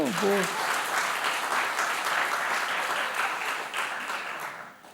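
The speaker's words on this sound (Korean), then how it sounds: "박수 좀 해봐요" Church congregation applause during a Sunday worship service, a dense, steady wash of clapping that fills the room and holds loudly before tapering off at the end, with a brief voice at the very start.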